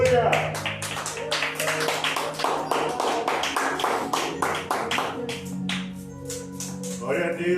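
A church congregation claps in rhythm during a Sunday worship service, steady and fairly loud throughout, with voices and singing running underneath.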